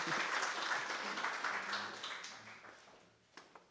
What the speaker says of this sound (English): Ladies and gentlemen, a round of applause for Prof. Eugene Klute.